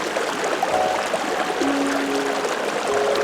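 A container fills from a cold mountain stream by Nambe Lake in the Pecos Wilderness, steady close trickling and gurgling water with faint tonal bubbling as it fills, no talking.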